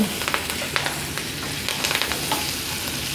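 Green chillies and curry leaves sizzle steadily in hot oil, a close, continuous crackle with scattered sharp pops.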